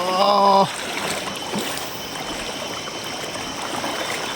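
A steady rush of flowing water fills the scene after a brief tonal sound at the start, continuous and fairly close.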